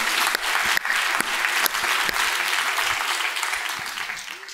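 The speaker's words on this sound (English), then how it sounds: "This deserves a clap." A conference audience in Houston claps steadily for several seconds, a dense even patter that slowly thins out toward the end.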